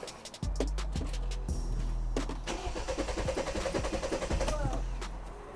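A BMW 528i with an N20 engine cranks and fires up right after a fuel pump install, settling into a steady close idle with sharp clicks and clatter near the start; a voice speaks briefly over it.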